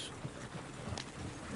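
Horses galloping in Red Dead Redemption 2, a soft, irregular clip-clop of hooves beneath a broad wind-like rush, moderately faint with no speech.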